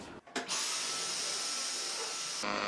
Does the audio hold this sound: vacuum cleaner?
yes